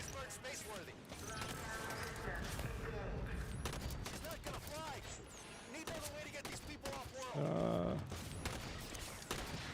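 Rapid grenade blasts and gunfire in Halo 5 as crawler enemies rush the player, a dense, continuous barrage of explosions and shots with game music and sound effects layered throughout.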